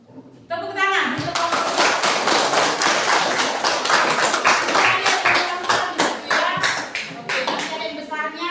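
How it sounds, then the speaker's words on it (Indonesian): A class of children claps their hands together in a classroom, brisk dense clapping that starts abruptly and runs on steadily, with voices chattering through it. "Tepuk tangan untuk"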